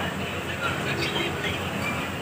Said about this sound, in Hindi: सो फाइनली ट्रेन के अंदर आ चुके हैं और ये अपनी कुछ लोकल ट्रेन है